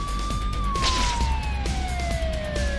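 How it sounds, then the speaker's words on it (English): A police car siren in the Spider-Man 2 PS2 video game wails loudly over city traffic noise, its tone sliding slowly downward as the car moves past. "you just ran me over, you stupid police car"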